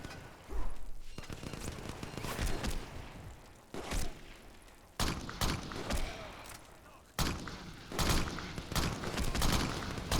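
Gunfire in the Xbox 360 game Crackdown: repeated bursts of shots and heavy thuds, loud and close, separated by brief lulls, with short bursts of action noise throughout.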